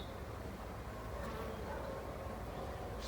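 Steady, close hum of honeybees in a swarm colony settled in a hive, a continuous buzzing drone without breaks.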